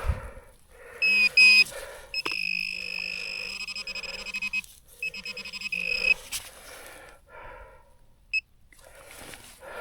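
A metal detector used in meadows emits steady tonal beeps and a sustained whine, with short warbling tones and a voice speaking in between.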